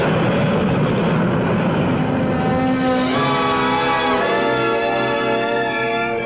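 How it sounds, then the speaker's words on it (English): An Eastern Air Lines Whisper Jet airliner's engines give a loud, steady roar that shifts into a rising whine midway and stays continuous throughout. "In the cabin, it's quiet. The jets and the noise are behind you."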